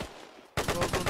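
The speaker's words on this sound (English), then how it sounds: "Get on the machine gun, sir." Machine gun fire in a military video game, a sudden loud burst of rapid automatic shots that breaks in after a brief quiet moment.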